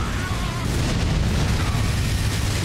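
A big explosion goes off in the video game Elden Ring, a mod pitting a king against a god, with a deep booming burst rolling over a continuous rumble.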